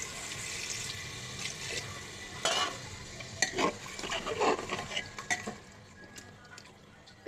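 Water goes into a pot of braised goat mutton with potatoes, a soft splashing pour with clinks and stirring knocks against the pot, fairly quiet and uneven, ending in a sharper clatter.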